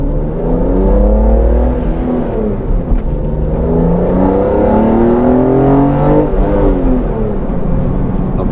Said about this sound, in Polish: dolot gada głośnie jak wydech